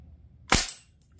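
A BB 2068 toy gun fires once at a pane of glass, a single sharp snapping crack with a quick bright burst that fades within a split second, heard alone and close.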